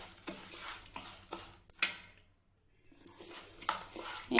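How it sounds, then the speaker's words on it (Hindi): Gooseberry pickle being stirred and mixed in a pan, with a steady series of soft scraping and clinking strokes close up, a brief pause, then more stirring. "ये देखें, अब हम इसको मिक्स करेंगे।"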